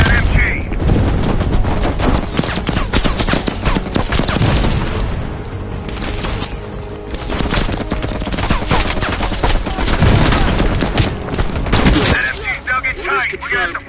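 Loud, dense machine gun fire and explosions from a World War-style battle in the video game Call of Duty Black Ops Cold War, bursts of shots layered with booms and voices almost throughout.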